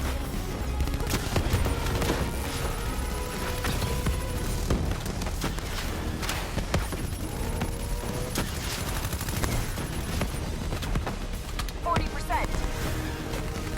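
Heavy gunfire in the Call of Duty Black Ops 3 campaign: continuous bursts of automatic weapons and scattered booms, loud and dense throughout, with voices and game sounds mixed beneath.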